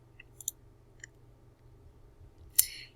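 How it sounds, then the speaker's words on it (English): A few faint, sharp computer mouse clicks, clearly separated, in a quiet room, the last one the loudest. "So I'll click on this."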